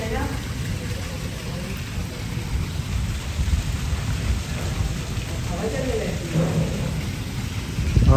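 Heavy rain pouring down with wind, a dense steady hiss throughout, with faint low rumbles and occasional spatters near the end.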